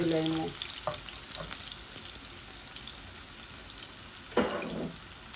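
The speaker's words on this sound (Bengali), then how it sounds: "এই রসুনও দিলাই আর বিসমিল্লা রসুনগুলো একটু লাল লাল হয়ে যাক" Halved garlic cloves frying in a pan with oil for a meat and fish curry, giving a steady close sizzle with a few brief stirring clinks and splashes.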